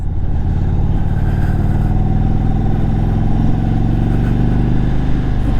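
A 1900cc motorcycle engine drones steadily while being ridden, a loud, even mid-pitched roar with rich harmonics that holds throughout without pause.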